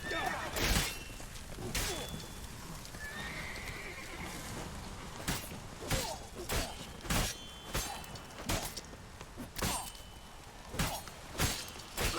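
A horse neighs in The Witcher 3: Hearts of Stone, mixed with hoof clip-clops and sharp impact sounds, repeating bursts over busy in-game noise.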